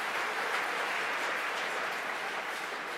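Dense, steady applause from a conference hall audience at a hacker congress security talk, a continuous broadband wash of many hands clapping at an even level throughout, heard from a distance as if through a booth.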